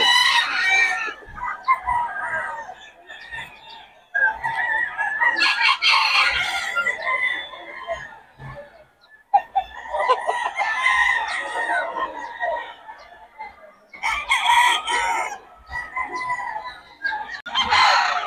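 Roosters crow again and again, loud and nearby, with clucking from other fowl between the calls, in the dark before dawn.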